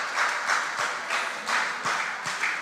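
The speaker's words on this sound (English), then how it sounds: "Round of applause for Bilson and Darocha." Applause for substituted contestants at a school quiz competition, a steady wash of clapping that swells in regular pulses over a couple of seconds, fairly close and without talk.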